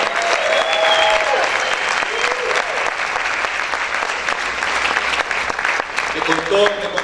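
A large church congregation applauds loudly and steadily, with cheering voices mixed into the clapping.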